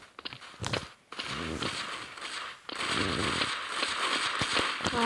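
Rapid gunfire crackles in Counter-Strike 2 Arms Race mode, with bursts of sharp shots and impacts coming in quick clusters, loud and close, with a short gap near the middle before a dense stretch of continuous firing.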